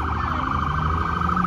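A police car siren wails in a repeating rising-and-falling pattern, loud and close on a street in Halifax during a long weekend, continuous throughout with no talking.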